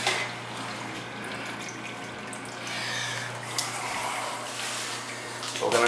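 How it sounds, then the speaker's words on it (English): A faulty sewage injector pump in the lower level of a commercial building runs continuously without shutting off, giving a steady low hum under rushing, water-like noise that holds throughout. "It's pumping continuously."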